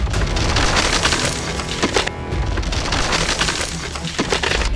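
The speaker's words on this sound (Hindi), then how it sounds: "एक झटके में 30 फीट चौड़ी दीवार भरभरा कर गिर गई।" A 30-foot-wide temple wall collapsing after a tanker strike, a loud continuous crash of breaking, cracking masonry and debris with a brief dip midway before the rumble and clatter resume.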